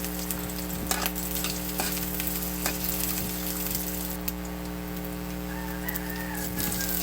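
Garlic frying in a pan, a steady sizzle and crackle with a few sharp utensil clicks over a constant low mechanical hum, and a rooster faintly audible in the background.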